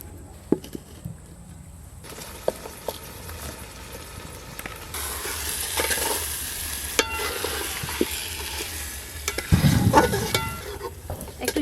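Chicken pieces for a kachchi biryani browning in a pot, with steady frying sizzle and repeated scraping stirs growing busier toward the end, close and fairly loud, no talking.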